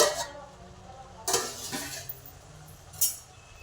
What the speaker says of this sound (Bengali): এবার ঢাকাটা খুলে নিচ্ছি